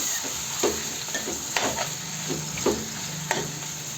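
A spoon stirs mutton curry in a frying pan with several scraping strokes and soft clinks over a steady background sizzle, close and moderately loud.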